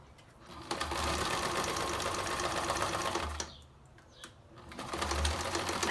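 A sewing machine stitches clear plastic nylon for a face mask, running in fast, steady rattling bursts that pause briefly and start again, close and fairly loud.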